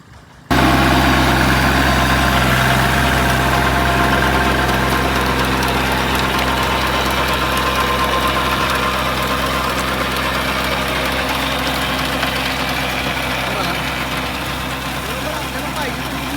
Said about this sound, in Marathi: आता रिटर्न यायलाय ट्रॅक्टर.